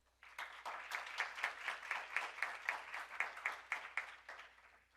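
Audience at an expert panel on university emergency plans applauds to welcome a panelist, a fairly quiet and even run of clapping with a rhythmic pulse, over a low steady hum.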